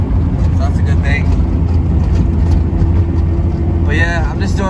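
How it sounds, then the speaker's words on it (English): A Honda Civic with a swapped K24A2 engine and JFab exhaust drives along, giving a steady, fairly quiet engine drone under someone talking. "The exhaust from JFab sounds really good, so it's real quiet, no exhaust leak"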